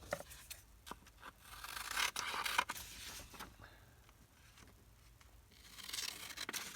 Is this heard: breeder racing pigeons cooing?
no